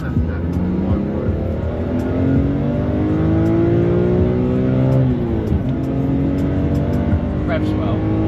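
A BMW at the Nurburgring revs hard and steadily for several seconds, its engine note rising in pitch, dipping, then climbing again, loud and close with faint talk underneath.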